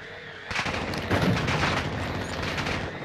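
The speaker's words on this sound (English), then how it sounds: "Someone else is shooting him." Gunfire crackles in the Call of Duty: Modern Warfare II video game, a dense, sustained burst of rapid shots and booms that starts abruptly and stays loud throughout.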